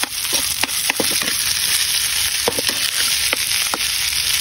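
Leftover rice frying in a pan with a continuous loud sizzle, broken by repeated close clinks and scrapes of a utensil stirring it, no voices.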